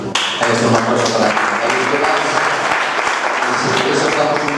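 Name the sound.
audience applause after talk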